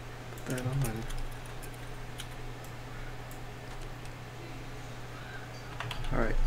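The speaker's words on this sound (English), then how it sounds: "Your keyboard is so loud." Loud computer keyboard clicks tap out in scattered bursts behind a steady electrical hum during a gaming session with a mining rig running, and voices speak briefly near the start and end.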